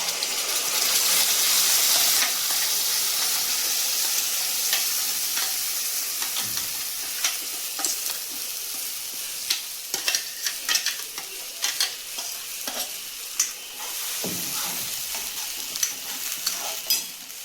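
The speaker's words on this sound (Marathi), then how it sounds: "आपण मसाला चांगल्या प्रकारे फ्राय करून घेणार आहोत त्याच्यामध्ये" Masala spices frying in hot oil for an egg curry make a loud, continuous hissing sizzle, later broken by repeated stirring scrapes and clinks against the pan, with no voices.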